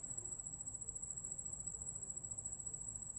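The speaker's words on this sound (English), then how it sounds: "Crickets." Crickets chirping in a steady high, continuous trill, pulsing evenly and alone against a quiet outdoor background.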